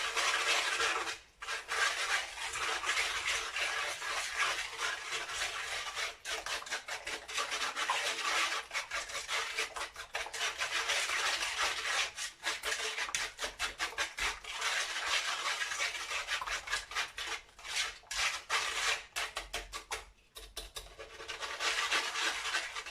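Cookie dough with apricot jam and a pinch of salt is stirred in a bowl, a continuous rough scraping and rubbing with quick repeated strokes, close and fairly loud, pausing briefly now and then.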